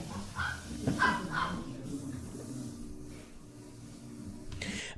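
Pet dogs bark and yip in the background during play at home, a few short faint barks under a low room hum with a brief voice.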